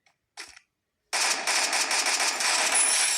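In a shooting video game, a short single shot is followed by a sustained rapid burst of automatic gunfire, sharp and loud.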